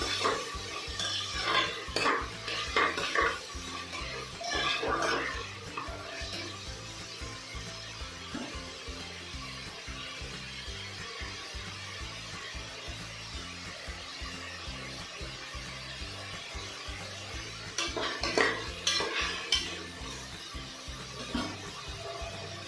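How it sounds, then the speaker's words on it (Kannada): Capsicum stir-fried in a pan for capsicum bath, with repeated scraping and clinking of a spatula against metal over a soft sizzle, close and moderately loud, busier at the start and near the end, with no talking. "ಸ್ವಲ್ಪ ಸಾಫ್ಟ್ ಆಗಿ ಚೆನ್ನಾಗಿ ಫ್ರೈ ಮಾಡ್ಕೊಳ್ತೀನಿ"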